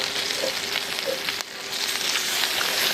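Bacon fries in a pan on an outdoor camp stove in the mountains, giving a steady close sizzle and crackle with faint stirring noises and a brief dip partway through.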